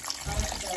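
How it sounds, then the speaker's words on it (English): Beef broth poured into a crock pot, a brief close splash and trickle of liquid with a voice faintly in the background. "we're gonna pour in our beef broth"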